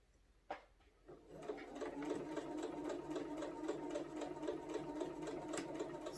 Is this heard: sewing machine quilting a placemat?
yes